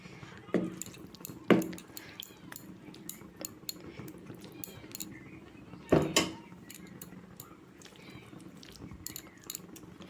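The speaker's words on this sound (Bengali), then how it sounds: "এখন একটু উপর দিয়ে ঘি দিয়ে নিচ্ছি, ঘি দিলে স্বাদ অন্য রকমের আসবে।" Ghee is spooned over khichdi in a pot, giving a few soft wet plops and drips with scattered light clinks, close by and without speech.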